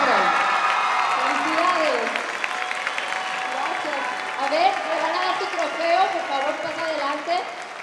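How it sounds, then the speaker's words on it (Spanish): An audience at a Zapopan singing competition applauds steadily for the third-place winner, a dense clapping wash that continues throughout with whistles and cheers, while an announcer's voice and music carry on beneath. "Un aplauso para él."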